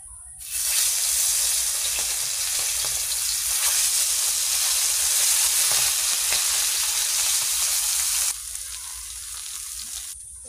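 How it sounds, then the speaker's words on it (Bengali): Rohu and crab fish, seasoned with salt and turmeric, fry in hot oil with a loud, dense, steady sizzle that starts abruptly and holds for several seconds before easing to a softer crackle near the end. "রুলি আর কাঁকড়া মাছ ভেজে নেব, আজকে ভাজা খাবো। মাছটা নুন হলুদ দিয়ে ভেজে নেব।"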